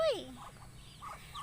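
A mother duck calls near a hatching brood, one loud honking quack at the start followed by softer, scattered calls and chirps over a quiet background.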